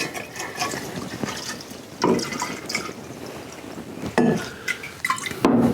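Bourbon pours into mixing jars in close-up, with trickling and splashing liquid and brief glassy clinks between pours.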